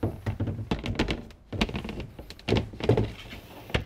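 Wooden companionway slide board on a 2021 Beneteau Oceanis 30.1 sailboat being slid into place, a series of close knocks and scraping thunks with short pauses between them.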